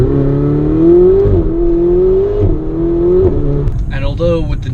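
A Ferrari 488 Spider engine revs up and drops back in repeated rising pulls, loud and close, like climbing through the gears, then grows rougher near the end.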